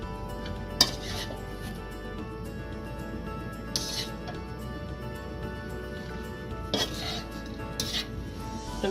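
Ghee rice stir fry with cashews being mixed in a pan gives off sparse, faint metallic clinks and scrapes of a utensil against cookware over a low, steady background hum.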